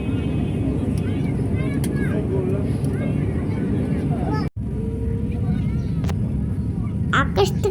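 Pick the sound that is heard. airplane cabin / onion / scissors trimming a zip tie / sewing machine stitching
airplane cabin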